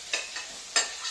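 Sautéed onions in a pan being stirred, with a few short scraping and sizzling bursts over a low, steady frying hiss, close and fairly quiet.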